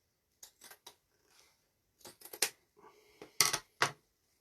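Scissors snip through paper to cut small shapes for a Christmas tabletop tree craft, quick clustered snips in short bursts separated by pauses, close and fairly soft, with no one talking.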